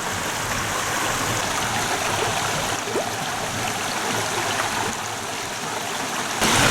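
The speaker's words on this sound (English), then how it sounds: "it's here, I believe, where the two rivers meet that form the start of the River Colne." Water rushes and babbles steadily at the confluence of two streams forming the start of the River Colne near Marsden in the South Pennines, a close, continuous broadband flow heard alone.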